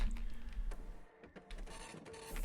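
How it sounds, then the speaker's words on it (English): A circuit printer in the Space Station 14 game turning out interactor machine boards, a buzzy mechanical whir with a brief dip midway, fairly quiet and alone. "you can also print off the interactor machine boards, which you need"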